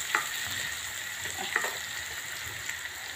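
Onions frying in ghee for a yam (suran) dish, a steady sizzle with occasional stirring scrapes and clicks, heard alone and fairly quiet.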